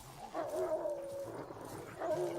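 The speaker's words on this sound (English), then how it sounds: "Let's kill these wild dogs." Wild dogs in The Witcher 3 growl and yelp in a sustained, tonal whine-like cry over game ambience, loud and close, with a second burst near the end.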